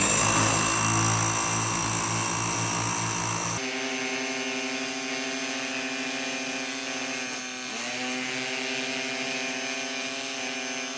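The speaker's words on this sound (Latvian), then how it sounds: "cik ātrā laikā ar šo akumulatoru perforatoru mēs saskaldīsim šos betona klucīšus" Cordless battery rotary hammer breaking up concrete blocks, a steady loud mechanical drone with strong harmonic tones, changing character partway through and continuing without pause.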